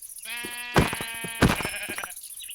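A sheep in Minecraft bleats twice in a wavering, nasal call, close and clear over a faint steady background hum.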